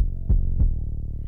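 An 808 bass plays in a beat, with two deep booming hits about a third of a second apart over a sustained low tone, loud and alone.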